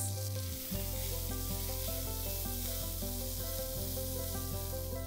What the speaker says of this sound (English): Saute them for a few seconds